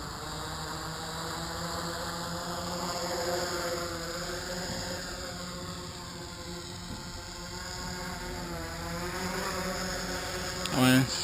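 Quaternium tricopter drone in flight, its motors giving a continuous high-pitched buzzing drone that rises and falls slightly in pitch throughout, steady and moderately close.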